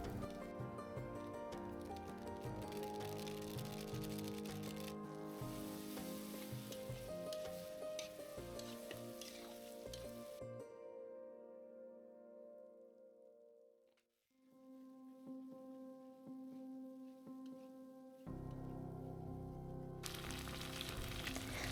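Mutton curry sautéing in a pan makes a steady, crackling sizzle with stirring scrapes. It fades nearly to silence midway, then sizzles up again with a softer hiss before a burst of louder frying returns.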